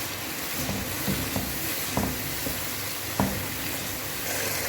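Tomato-paste masala with yogurt, salt, red chili powder, garam masala and coriander powder fries in ghee in a karahi, a steady close sizzle broken by occasional soft clicks of stirring.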